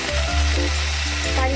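Mustard seeds, cumin and two green chilies sizzle loudly in hot oil, a close continuous crackling fry with brief bursts of spattering.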